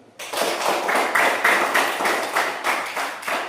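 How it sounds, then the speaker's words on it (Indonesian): A class of students clapping their hands together in a classroom, a loud burst of clapping in a rough, rhythmic pattern of pulses that starts abruptly and continues steadily, close to the listener. "Kalau hadir semua kita tepuk tangan."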